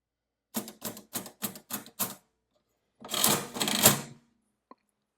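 A Victor Model 110 mechanical adding machine is worked by hand, giving six quick, evenly spaced clacking key strokes followed by a longer grinding, ratcheting run of the mechanism and a final faint click, close and clear.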